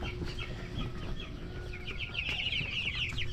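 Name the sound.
chickens clucking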